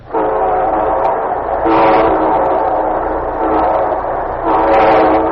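A train horn sounds in long sustained blasts over rumbling rail noise, loud and close, with a brief pause before the horn swells again.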